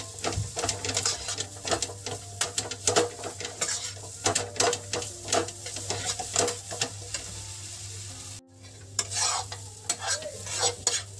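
Semolina sweet mixture stirred continuously in a kadhai for rasbhari mithai, with a steady scraping and clacking of the spoon on the pan over a low hum. The strokes come in a brisk, uneven rhythm, close and clear, pausing briefly near the end.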